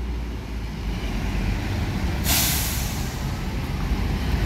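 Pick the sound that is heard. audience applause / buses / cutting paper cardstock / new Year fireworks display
buses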